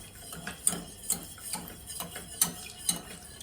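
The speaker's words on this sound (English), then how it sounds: "I'm going to start whisking my egg yolks." A whisk beats egg yolks with evaporated milk in a pan, giving a run of light metallic clicks and scrapes in an uneven rhythm. The sound is close and soft, with no talking.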